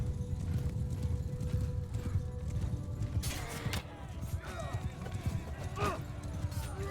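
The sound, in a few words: cavalry horses galloping in a video game battle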